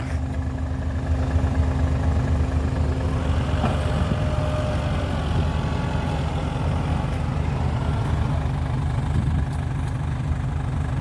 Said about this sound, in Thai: ลากไม่ขึ้นครับ ดินเปียกนะ รถไถมันเบาครับ M6040 มันเบา